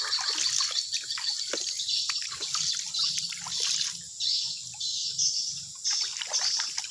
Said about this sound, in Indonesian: Kita buang airnya.